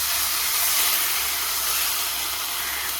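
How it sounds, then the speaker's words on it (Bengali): Water poured into a hot pan of frying ghugni in a village kitchen gives a loud, broad sizzling hiss with bubbling steam, steady and close for the whole moment. "এখন কিন্তু আমি জল দিয়ে দিচ্ছি।"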